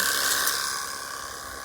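A motorized sprayer spraying fungicide on durian trees hisses steadily, a loud continuous high spray with a faint mechanical whir beneath, fading slightly toward the end.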